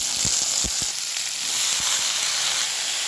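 Chopped spinach and mixed vegetables hit hot mustard oil already crackling with panch phoron and a whole dried red chilli, producing a steady, loud sizzle with a few sharp pops early on and no talking.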